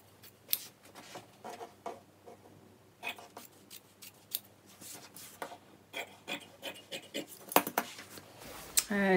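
Scissors cutting practice fabric on a sewing table, a run of uneven close snips and rustles that grows busier toward the end, with no voices.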